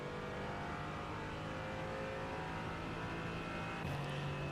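Mercedes AMG GT4 race car engine in the iRacing simulator at Daytona, a sustained drone at high revs that holds steady with only slight pitch shifts, fairly quiet and alone.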